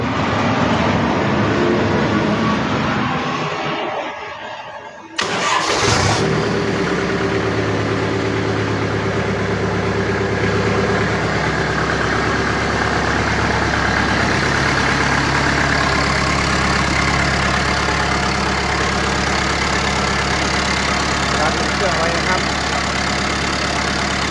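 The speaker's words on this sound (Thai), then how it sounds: "ก็ทำการสตาร์ทเครื่องยนต์นะครับ ต้องเผาหัวก่อนนะครับ" A farm tractor's diesel engine, glow plugs preheated, cranks and catches after a brief pause, then settles into a steady, loud, rumbling idle that runs on continuously.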